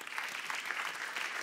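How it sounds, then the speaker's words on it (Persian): An audience applauds warmly at an event, a dense, steady wash of clapping heard close and continuous without pause. "تشویقشون بکنید"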